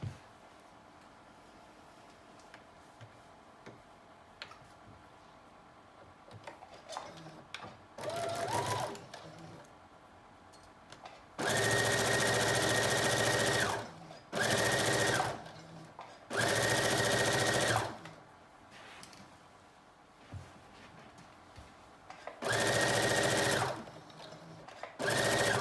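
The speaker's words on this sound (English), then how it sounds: "We're going to stitch in a 5/8 inch seam allowance." A sewing machine stitches seams on a knit dress in several loud, steady bursts of a few seconds each, separated by pauses with faint handling noises.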